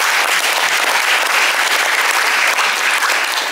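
A small group in a living room breaks into steady, dense applause, loud and close, continuing evenly without talk.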